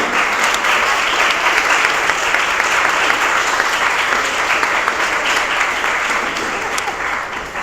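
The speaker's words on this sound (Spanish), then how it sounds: "Y creo que entonces el aplauso es obligatorio." A crowd at a panel on teaching reading gives a loud, continuous burst of applause that holds steady throughout and tapers off slightly at the end.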